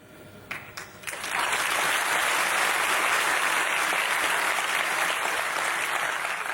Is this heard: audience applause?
yes